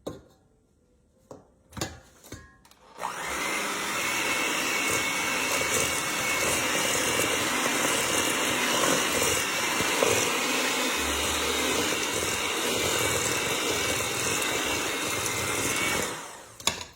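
An electric mixer beats eggs into a creamy chocolate chip cookie dough, a loud continuous whirring that starts after a few clicks and runs steadily before stopping near the end.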